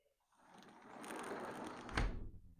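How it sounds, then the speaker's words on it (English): A door in a home slides and thuds shut with one soft knock near the end, after a brief rustle of movement, heard quietly and close by with no talking. "Someone shut this door."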